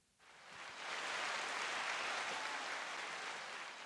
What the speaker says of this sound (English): I'm gonna give you a little clap